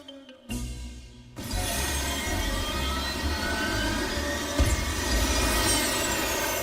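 A cartoon spaceship's engines roar into a powerful, sustained takeoff thrust, loud and close, kicking in abruptly after a short lull and holding a steady jet-like rumble to the end with no talk.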